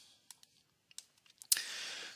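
A few light, close clicks from a computer keyboard while working in 3D geometry and meshing software, scattered quietly over a near-silent background before a burst of broadband hiss takes over.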